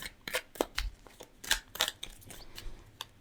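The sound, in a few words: tarot cards being shuffled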